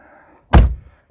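A car door, on a car bought at auction, is handled with a single solid thunk as it is worked, close and loud over a quiet background, followed by a small knock.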